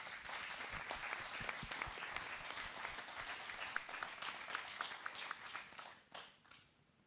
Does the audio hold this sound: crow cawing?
no